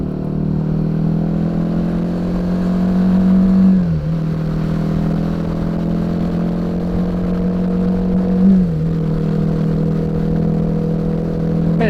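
Royal Enfield Himalayan 450 motorcycle engine on a test ride, a steady loud drone with two clear gear shifts where the pitch drops and then climbs again, close and continuous with rushing wind noise.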